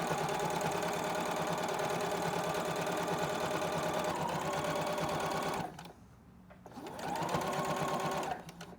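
Domestic sewing machine running a long seam through fleece fabric, a steady close whirring drone that slows briefly, pauses for a couple of seconds, then resumes before stopping.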